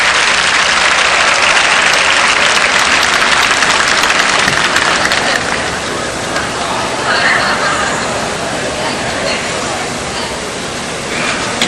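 Spectators at the 1981 German Shepherd Dog Club of America national show applaud the winning dog, a loud, steady roar of clapping that eases a little partway through, with a voice talking over it.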